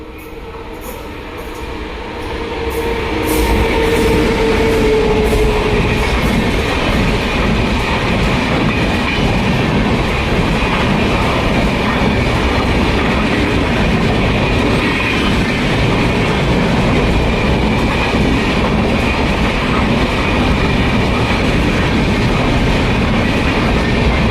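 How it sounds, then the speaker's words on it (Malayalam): A train rolls past close by at Pookunnam railway station, Thrissur, its loud rumbling and clattering building after a few seconds and holding steady throughout. "ഇവിടെ അടുത്ത വേറൊരു ട്രെയിൻ വരുന്നുണ്ട്."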